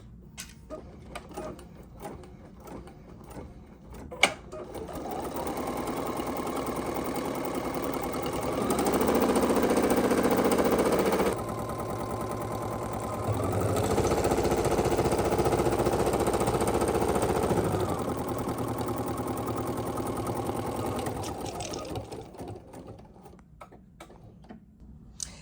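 A computerized embroidery machine sewing a perimeter stitch around a design in the hoop, running continuously with a steady mechanical hum and rapid needle ticking, shifting in pitch and intensity through the run before winding down.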